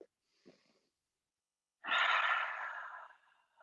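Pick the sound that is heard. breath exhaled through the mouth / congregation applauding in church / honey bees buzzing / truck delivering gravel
breath exhaled through the mouth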